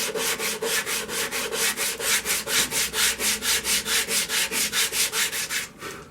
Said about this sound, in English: the power sander. And just smooth all the curves out